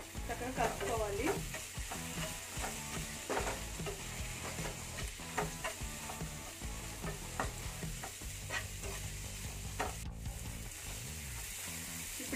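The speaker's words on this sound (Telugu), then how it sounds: "ఇవన్నీ వేసుకున్నాక చక్కగా కలుపుకోవాలి." A mango fish curry masala with fish pieces is stirred in a pan, the spoon scraping steadily in a continuous rhythm over loud, constant sizzling frying, with no voices.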